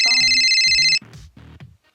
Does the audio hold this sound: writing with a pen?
no